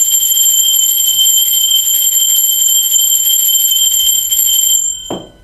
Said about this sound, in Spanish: La campana es una frecuencia de alta frecuencia, de alta vibración.